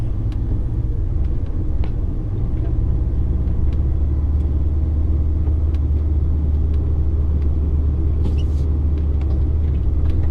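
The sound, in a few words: HGV truck engine driving up a narrow farm lane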